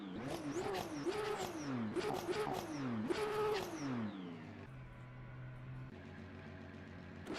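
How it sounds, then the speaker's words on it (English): A hypercar in the Le Mans Ultimate racing game revs hard through repeated rising sweeps, each climb cut by a quick drop, before settling into a lower steady drone and idle hum. "give the car a start. Let's drive out in third person so you can hear it"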